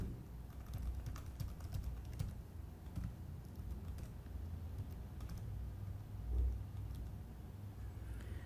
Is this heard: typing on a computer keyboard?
yes